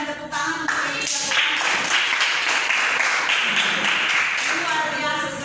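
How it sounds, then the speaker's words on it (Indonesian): A classroom audience claps for participating students during a lesson. The applause is steady and sustained, starting just after a voice speaks and continuing to the end. "Kita berikan tepuk tangan untuk yang bisa"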